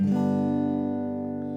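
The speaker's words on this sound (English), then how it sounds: "It sounds like this when you just strum all the strings." One strum of an acoustic guitar across open strings in open G tuning (G D G B D), a full chord ringing out and slowly fading over a second and a half.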